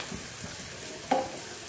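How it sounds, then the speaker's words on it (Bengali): An egg goes into a hot pan for Dhaba-style egg tadka, with a steady, fairly quiet frying sizzle throughout and a brief soft splash as it lands. "ভাজা ভাজা হয়ে গেছে চলো এবার একটুখানি ডিমটা দিয়ে দেওয়া যাক"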